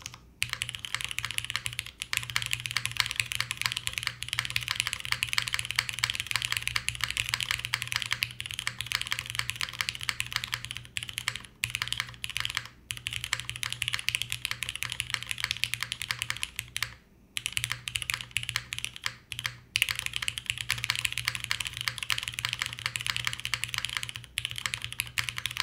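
Continuous rapid clacking of keys on a Nix mechanical keyboard, close and steady, with brief pauses between bursts of typing.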